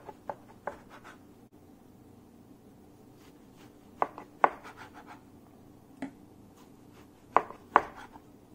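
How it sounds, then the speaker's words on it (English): A knife cuts homemade tempeh into cubes on a board, giving sparse, sharp taps and scrapes at irregular intervals against a quiet background. "So I'm going to cut to cubes"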